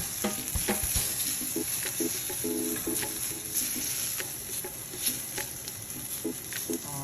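Garlic cooks in a pan for pasta, a quiet continuous sizzle with occasional stirring clicks and scrapes throughout.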